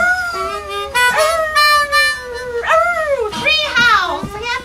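Children imitate wolves with three rising and falling howls, their bright voices sliding up and bending down in long wavering calls, close and loud with brief gaps between them.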